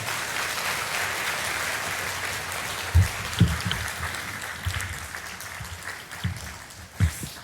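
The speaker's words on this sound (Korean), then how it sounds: "나오실 때 박수로 환영해 주시겠습니다." Soft, distant applause from a church congregation at a Sunday service continues throughout, with a few louder thumps and knocks now and then.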